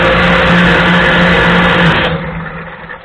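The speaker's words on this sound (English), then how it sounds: "you'll be able to see and hear that pump run" Electric pump running on a WAR Corsair, a steady loud motor drone with a constant hum that stays even for about two seconds, then drops away and fades as the clip ends.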